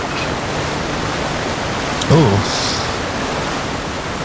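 Waterfall inside a riverside cave in the video game Avowed: a steady, dense rush of falling water filling the scene, with a brief exclamation from a voice partway through.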